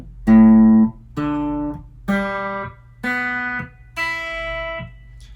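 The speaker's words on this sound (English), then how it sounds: "so when you pluck all the strings, it should sound like this" Six open guitar strings in standard tuning plucked one at a time, each a clear ringing note left to sustain about a second before the next, close and steady with no talking.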